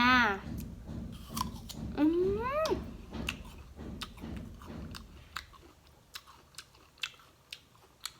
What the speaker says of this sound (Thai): มาเริ่มลงมือกินแอปเปิลกันเลย